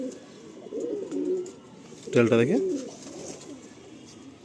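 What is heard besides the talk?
Madrasi pigeons cooing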